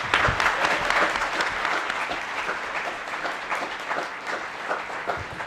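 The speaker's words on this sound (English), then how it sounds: "give a really resounding, loud round of applause for our special judges" An audience at a legal conference claps for a judges' panel, a dense, sustained round of applause that gradually thins out.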